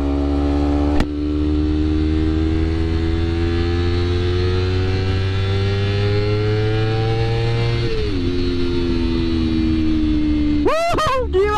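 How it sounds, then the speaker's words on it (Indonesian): A Honda CBR250RR in sport mode with an Akrapovic exhaust, ridden on the road. Its loud, steady, high-revving drone climbs slowly in pitch, drops sharply at a shift, then settles, with wind rush and a few quick revving sweeps at the end. "Suara knalpotnya juga enak gue ini."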